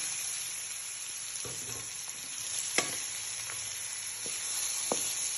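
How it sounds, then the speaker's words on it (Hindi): Chopped onions frying in hot oil in a karahi for chicken karahi, a constant loud sizzle broken by several sharp spoon clinks and scrapes as they are stirred. "अब हम इसमें प्याज डालेंगे जो हमने चॉप करके रखा था।"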